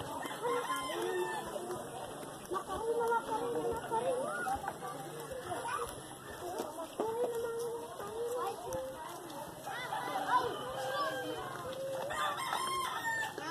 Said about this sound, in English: But here, it's roosters.